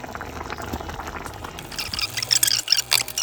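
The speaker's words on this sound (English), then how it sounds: "All right, so I'm going to give that a quick stir." A pot of cooking tomatoes and pepper being stirred, with wet bubbling and squelching liquid sounds and scattered clinks of a spoon, growing louder and busier toward the end.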